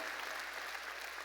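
A church congregation applauds during a sermon, steady dense clapping from many hands, fairly faint and distant, heard alone without talk.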